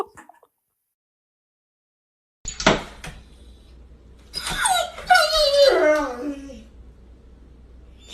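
A dog whimpers and yips close by, with rising and falling high-pitched whines after a thump, over steady background noise with a person speaking briefly.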